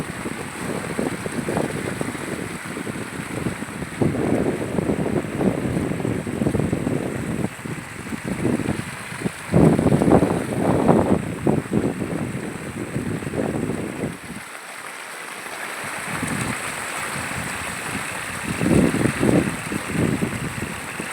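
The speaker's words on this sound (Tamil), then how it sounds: "எவ்வளோ சவுண்டோட எப்படி போகுது பாருங்கள் தண்ணி" Floodwater after heavy rain rushes past farmland near Veppur, a steady loud roar with windy gusts buffeting the microphone, and no one speaking.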